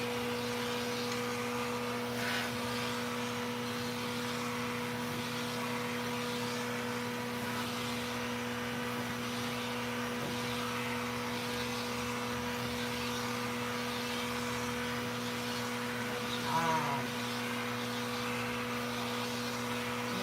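Steady vacuum cleaner drone, used to pull loose hair out of a puppy's coat during her first grooming trim, running continuously at an even level with faint handling noises.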